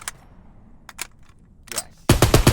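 Gunfire from a 12-round gun in a Call of Duty video game: a few sharp isolated clicks, then a loud, rapid burst of shots packed close together at the end.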